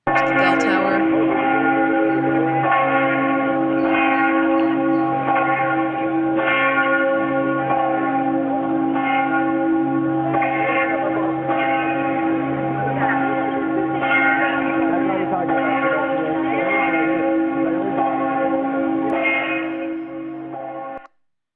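Church bells of St. Mark's bell tower in Venice ring loudly and continuously, their sustained overlapping tones and steady strikes sounding for about twenty seconds before cutting off.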